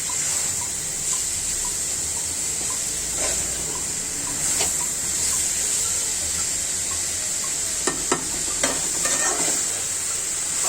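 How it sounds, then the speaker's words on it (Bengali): Yardlong beans stir-frying in oil, a steady close sizzle with soft scraping of the spatula and a few sharper clicks toward the end, no talking. "দেখুন বরবটিটা ভাজা হয়ে গিয়েছে দেখুন একদম তেলটা উঠে এসছে আর একটু কষিয়ে নিব"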